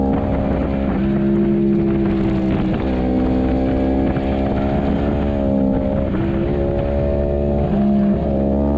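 A race car engine screams at high revs in fourth gear during a race at Autodrom Most, a loud, continuous wail with slight pitch dips as the car accelerates, heard close from on board and without talk.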